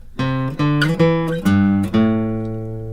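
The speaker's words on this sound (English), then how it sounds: "I can now get the 5 notes of the pentatonic scale like this." Five plucked string notes of a pentatonic scale rising one after another, close and clear, with slight slides between some, the last note left ringing and fading out.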